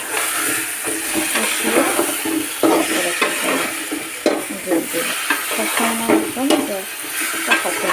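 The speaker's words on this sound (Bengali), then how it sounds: "এখন আমি কিন্তু আমার সবজিগুলো সবগুলো এখানটা করে কষাবো" Vegetables sautéing in a pan of hot oil after fish has been fried for a singi fish curry: a steady, loud sizzle with continuous stirring scrapes and clatters throughout.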